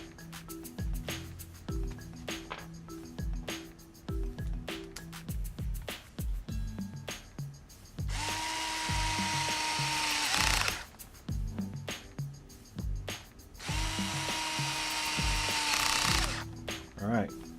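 A power drill drives screws into the front differential of a Traxxas Slash LCG RC car, with two sustained whirring bursts between clicking, rattling handling of small parts and tool ratchets, close and fairly loud.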